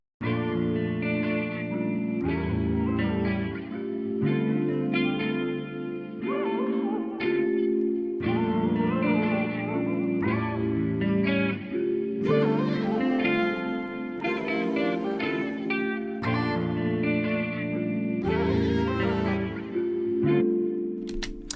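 A deep vocal doubled and pitched down an octave for late-night trap R&B, with a thick chorus-like sheen, sitting in a steady, dense mix with reverb and effects throughout.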